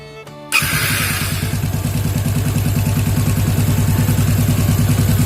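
A Yamaha Jupiter MX motorcycle engine fires up after a brief starter whir, then settles into a steady, loud, close idle with a fast even putter that holds alone to the end.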